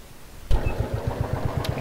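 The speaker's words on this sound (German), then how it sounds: "Und da fährt der Traktor mit nagelneuem Öl an Bord." A tractor engine in Traktor-Werkstatt Simulator 2015, freshly filled with new oil, catches with a sudden start and settles into a steady, low, chugging idle with an even beat, close and fairly loud.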